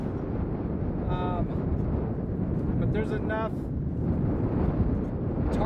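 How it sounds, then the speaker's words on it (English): Strong wind buffets the microphone outdoors on a winter homestead, a constant low roaring rumble throughout, while someone talks briefly over it. "it's very windy right now"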